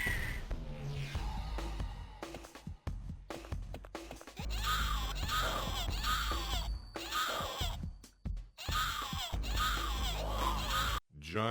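Giant bird-woman boss in a Hellboy video game giving loud, repeated honking screeches and squawks in bursts with short gaps, set against game music and effects.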